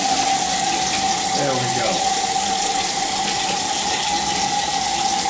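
Hot water pours steadily from a shower into a bathtub, a loud continuous splashing rush that never lets up, with a brief spoken remark under the flow.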